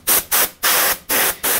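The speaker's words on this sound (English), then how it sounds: "So here I got the canned air." Canned air sprays onto an Epiphone Les Paul Custom guitar during cleaning in five short, loud hissing bursts, close up with brief gaps between them.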